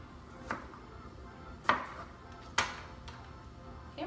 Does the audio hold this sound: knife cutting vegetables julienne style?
yes